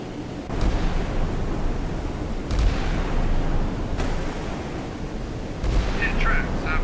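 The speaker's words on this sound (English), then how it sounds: "we're going to put weapons free on the Sterret as well, and you'll see that it will turn to the side so that we can use the rear gun here." A ship's rear gun fires at coastal artillery in a video game, three or four deep booming shots spaced a second or two apart over a constant rumbling background.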